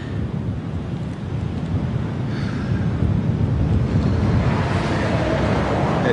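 A strong headwind roars across a cyclist's microphone on a long ride through the Americas, a continuous loud, blustery rush that builds slightly toward the end, with no talking.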